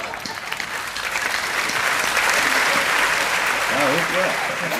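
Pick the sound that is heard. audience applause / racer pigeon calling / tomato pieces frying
audience applause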